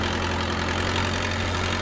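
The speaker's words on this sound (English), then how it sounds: "Then drive the forklift forward." Steady engine idle of a forklift in a virtual reality forklift training simulator, a continuous low hum with an even droning tone, held at constant level throughout with no voices.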